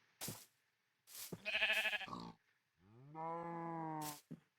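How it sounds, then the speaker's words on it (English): Sheep in Minecraft bleat several times in short bursts, two longer wavering bleats standing out among brief clicks and footsteps, fairly close with quiet gaps between. "Yeah, it's a gray sheep."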